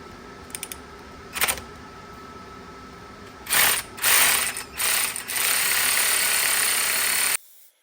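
A hand ratchet works 10 mm bolts out of an LS 5.3 engine, giving quick bursts of clicking pawl and gear rattle, then a longer run of fast ratcheting, close and loud, ending abruptly with no talking.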